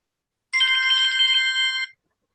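Electronic telephone ringtone trilling steadily for just over a second, bright and clear with no talk over it, then cutting off into silence.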